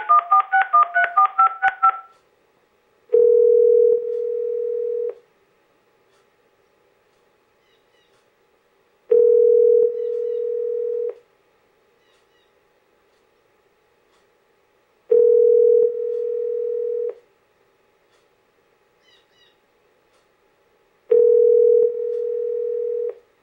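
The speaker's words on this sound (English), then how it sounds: "We can dial Robert Jackson on the landline" A landline telephone dials with a quick burst of touch-tone beeps, followed by four evenly spaced ringing tones separated by silence.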